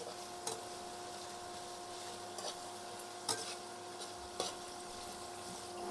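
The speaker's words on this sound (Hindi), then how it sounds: "प्याज हम उसी स्टेज तक फ्राई कर रहे हैं जब तक कि जो प्याज है ये ट्रांसपेरेंट जैसे हो जाएंगे।" Onions frying in a pan for a Kashmiri purslane (nunner) dish, a steady low sizzle with a few sharp scrapes and taps of a spoon stirring against the pan.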